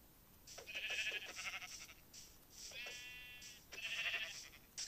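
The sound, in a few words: sheep bleating in the video game Minecraft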